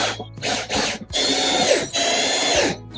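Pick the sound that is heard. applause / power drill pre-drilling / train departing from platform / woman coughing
power drill pre-drilling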